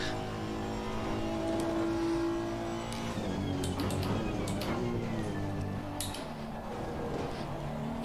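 A turbocharged car engine revs and strains in a racing video game, a steady mid-level drone with rising and falling pitch running the whole stretch, with scattered ticks and clicks layered over it.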